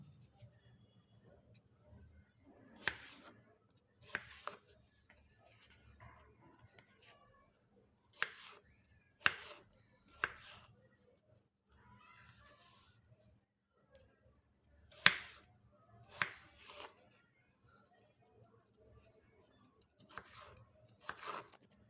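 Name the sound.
knife cutting potatoes into large pieces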